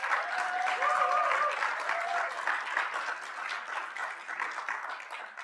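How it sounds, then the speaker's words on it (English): Conference attendees at a DevNet forum applaud a speaker's introduction, a close, brisk patter of clapping that stays strong before easing slightly, with a faint whistle or voice early on. "Please give her a round of applause."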